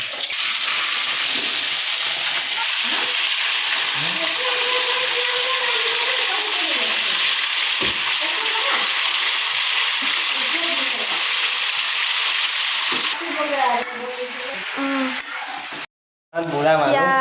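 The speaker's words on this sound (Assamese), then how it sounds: "অকল তেলত ফ্ৰাই কৰিছে" Chicken pieces fry in hot oil in a home kitchen, giving a steady, loud sizzle that runs throughout, with voices talking over it and a brief cut-out near the end.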